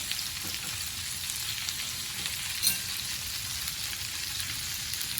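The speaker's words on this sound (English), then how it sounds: "we're going to remove them from the pan and cook the meat" Steak and chicken pieces fry in a pan for garlic butter potato bites, giving a steady, dense sizzle and crackle throughout with no voices.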